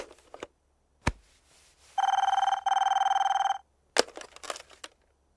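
A telephone rings in a Telugu comedy movie scene from Bommarillu: two long, steady electronic ring bursts in the middle. Sharp clicks and brief voice-like sounds come just before and after.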